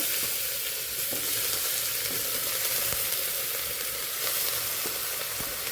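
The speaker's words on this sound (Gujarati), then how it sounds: "ઘીની અંદર આપણે ગાજરને સાતળવાના છે।" Grated carrots sauté in ghee for carrot halwa, a steady close sizzle with occasional soft stirring scrapes and no voices.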